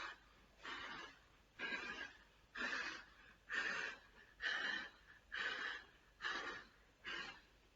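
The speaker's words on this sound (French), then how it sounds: "On vient souffler partout pour qu'elle soit bien cuite de partout." A person blows air from the mouth in eight slow, even puffs spaced about a second apart, soft and close, pretending to bake a pizza in an oven.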